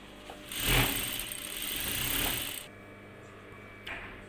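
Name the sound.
sewing machine stitching a skirt seam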